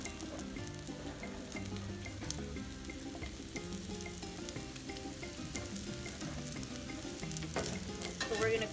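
Smoked lamb omelette with mushroom and tomato cooking in a covered pan, a steady close sizzle and frying crackle running continuously with light clinks and no talk.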